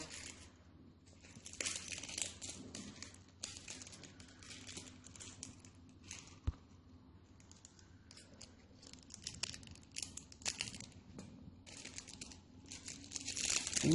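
Crinkly plastic wrapper of a Yu-Gi-Oh! card pack being torn and crumpled open, close up, in a long run of sharp rustling bursts that grow louder toward the end.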